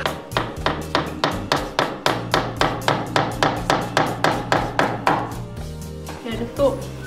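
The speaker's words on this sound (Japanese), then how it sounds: "これは金属板ってやって結構高い音が出るんですけど" A metal plate is struck with a hammer in an art school relief workshop, giving steady, rapid sharp metallic blows that ring fairly high. The strikes are close and evenly spaced, with a brief irregular pause near the end.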